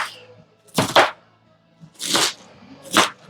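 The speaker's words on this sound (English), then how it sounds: "chop it light that way. So it's in tinier pieces." Knife chopping beef and vegetables for a hearty vegetable beef soup on a cutting board, heard as three separate bursts of quick close crunchy cuts with short quiet gaps between them, nothing else around.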